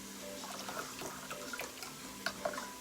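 Broth being poured over a bouillon cube in a home kitchen while making keto unstuffed cabbage roll soup; a steady close splashing pour of liquid runs throughout, with small bright drips and clinks near the end.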